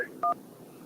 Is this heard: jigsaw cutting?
no